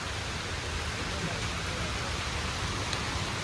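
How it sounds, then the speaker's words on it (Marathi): Heavy rain falls as a dense, steady hiss of drops pounding a surface, loud and unbroken from start to end, with no talk heard. "आणि जाम जोराचा पाऊस आला आहे."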